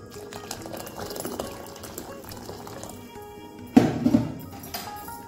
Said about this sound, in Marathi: मी अजून थोडं पाणी घालते.